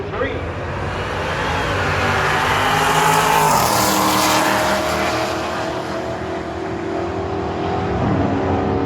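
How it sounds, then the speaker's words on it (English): A Dodge Challenger and a Chevrolet Chevelle drag race side by side on a quarter-mile strip. Their engines roar loudly and continuously, swelling as they accelerate and then easing slightly as they pull away. "Challenger up against the Chevelle."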